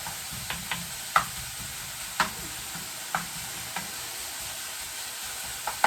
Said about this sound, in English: I'm separating all the bits of bacon and I'm trying to get them all cooked evenly